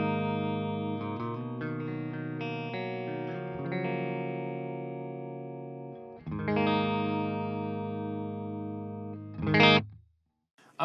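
Electric guitar played with a clean tone through a Legacy Drive preamp pedal with speaker simulation: sustained ringing chords and arpeggiated notes, shifting chord changes and a brief strummed accent near the end before silence.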